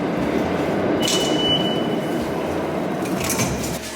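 A train rumbles loudly and steadily nearby, with a brief high metallic squeal of wheels and faint hissing bursts over the continuous roar, with no voices.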